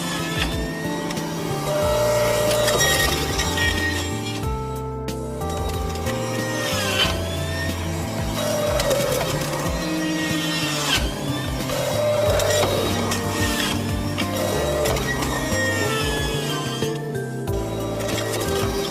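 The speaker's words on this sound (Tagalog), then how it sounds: "unahin po nating i-juice yung atin pong cucumber" A Dowell juice extractor on its lowest speed setting juices cucumber with a loud, continuous motor whine and grinding that rises and dips throughout, with no talking.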